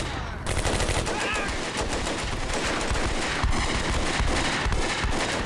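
Rifle and pistol fire in the Combat Mission World War II strategy game, a dense, continuous crackle of overlapping shots and bursts from many weapons, loud and sustained throughout with no talk.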